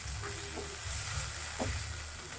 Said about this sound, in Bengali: এইটাকে আমি এখন ভালোভাবে ভাজা ভাজা করে নেবো